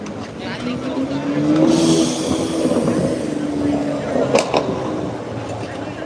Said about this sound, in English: I gotta wait for traffic. It's coming around this truck.